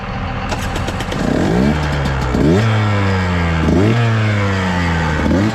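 A motorcycle engine cranks and catches on a first real start after new jetting, stator and clutch work, then idles loudly up close with several sharp rising revs blipped at intervals.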